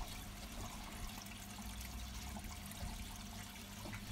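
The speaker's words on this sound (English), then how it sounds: "You can see the water is being pinched down in between two large rocks to create the" Pond water runs steadily through a narrow gap between two large rocks, forced shallow over a scrap liner and into a skimmer, giving a continuous close rushing trickle with no voices.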